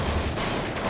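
Dense gunfire in the video game Counter-Strike 1.6 rattles loudly for a brief moment, overlapping shots blending into a harsh, sustained burst with no speech.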